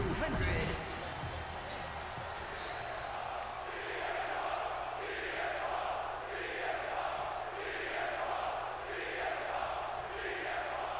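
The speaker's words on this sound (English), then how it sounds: "And just listen to this crowd here in Chicago." A large arena crowd in Chicago roars and cheers steadily throughout a CM Punk versus Eddie Guerrero match in the WWE 2K26 video game, with swelling waves of noise and a sharper burst at the start.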